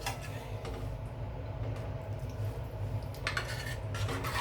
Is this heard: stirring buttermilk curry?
yes